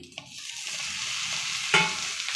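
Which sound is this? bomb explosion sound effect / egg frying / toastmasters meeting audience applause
egg frying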